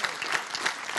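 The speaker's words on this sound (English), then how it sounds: "Y'all give Drew a hand clap" Audience applause for a speaker at a church talk, a dense wash of many hands clapping, steady and fairly loud for the full second, with no voices over it.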